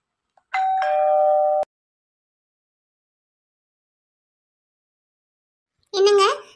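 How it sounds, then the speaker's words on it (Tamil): A doorbell rings once with a steady two-tone electronic chime that cuts off sharply; after several seconds of silence, a brief voice is heard. "எதுக்கு காலிங் பெல் அடிச்சீங்க?"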